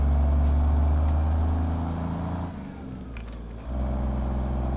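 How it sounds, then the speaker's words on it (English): A Kenworth W900 hauling cattle in American Truck Simulator, its diesel engine droning steadily and close, with low harmonic rumble that briefly dips before swelling back to full level. "So you can hear this engine."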